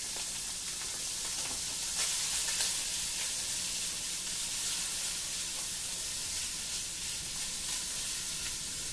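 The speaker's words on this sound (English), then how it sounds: "We're going to lower the heat to about medium. We're going to let those sweat for a little bit." Vegetables sweating in a pan over medium heat give a steady, soft sizzle with faint crackles throughout, gentle and even with no talking.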